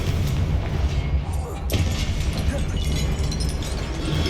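A Confringo fire spell bursts in Hogwarts Legacy with a deep boom about midway, set against ongoing game noise and rumble, with a voice speaking over the action.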